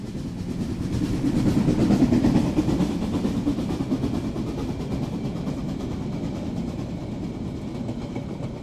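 Train rushing past as a sound effect in a story reading, a loud, close rumbling roar with faint clickety-clack of wheels that swells early, peaks, then slowly fades while staying steady, with no voice over it.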